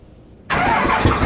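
A Cummins diesel truck engine cranks and catches abruptly after a quiet moment, then settles into a loud, rough running roar close by.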